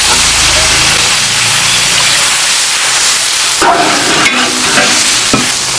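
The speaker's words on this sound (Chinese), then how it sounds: "这个我们要加一点点水，稍微给它煮一下。" Dried green beans and pork belly fry loudly in a hot wok with a constant close sizzle and stirring. About midway a splash of water sets off sharper hissing bursts and bubbling.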